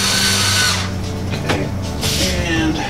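A Black and Decker power drill drives screws into the frame of a Samsung clothes dryer, loud and close, whirring steadily and then bursting again after a short pause, with a squeal as the screw seats.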